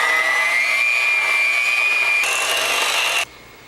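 An electric mixer beats lemon cake batter at medium speed, giving a loud, steady whirring hum with a faint pitch rise before it cuts off abruptly, leaving quiet.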